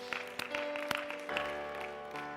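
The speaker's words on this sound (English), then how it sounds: "Give the Lord a hand clap of praise." A congregation claps together in a brief burst of scattered handclaps, fairly faint, with a sustained organ-like tone humming underneath.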